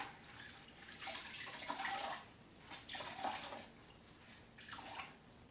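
Water splashes and trickles onto a cleaning cloth in a few short bursts before wiping a dirty window screen, soft and close with brief pauses between pours.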